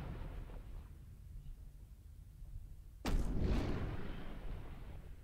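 A single loud gunshot bursts out in the Liberated video game after a quiet, low ambient stretch, followed by a brief ringing tail.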